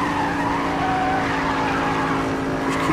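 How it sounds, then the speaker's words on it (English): Jaguar F-Type drifting in the racing game Need for Speed No Limits, with a steady loud engine roar and sustained tire squeal throughout, no pauses. "in my case, you can drift a bit more."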